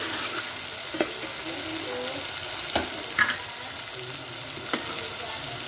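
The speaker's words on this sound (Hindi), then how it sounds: "लहसुन अदरक थोड़ा सा फ्राई होगा" Garlic and ginger fry in a pan over already-fried dal for a chicken and cabbage dish, making a steady close sizzle broken by a few sharp clicks and light spoon knocks, with no talk.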